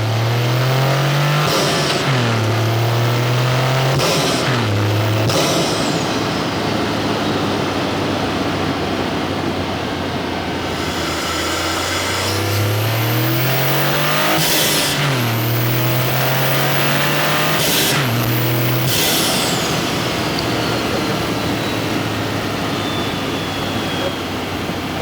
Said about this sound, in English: you guys have heard the sound of the Mishimoto air intake